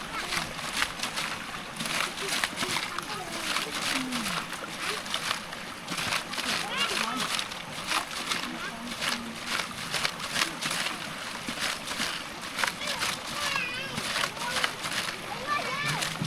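Water splashes and sloshes continuously as a bottle is rinsed inside at a small village well in rural Laos, with people talking nearby throughout.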